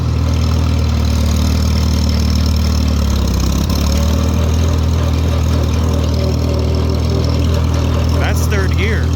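A 1940 Farmall H tractor with an M&W 9-speed runs loud and steady in high third gear as its throttle is opened up, a constant rumbling engine drone throughout.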